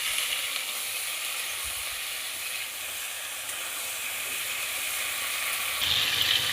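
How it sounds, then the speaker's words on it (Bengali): Chicken pieces frying in hot oil for a potato curry give a steady, even sizzle and hiss that runs throughout, slightly louder near the end, with no talking. "চিকেনটা কিছুক্ষণ তেলে ভেজে নিতে হবে"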